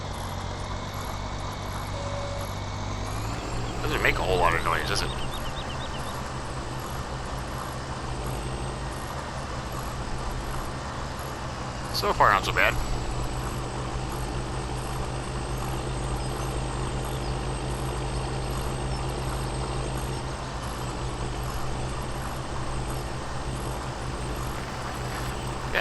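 A tractor engine idles in Farming Simulator 17, a low steady drone with a rising start-up surge, a few sharp clanks along the way, and someone talking briefly over the running engine.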